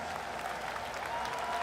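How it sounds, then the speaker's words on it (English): A crowd at a CS:GO esports major in Stockholm applauds and cheers, a dense, steady wash of clapping heard from a distance. "Started with boos, and it ends in cheers."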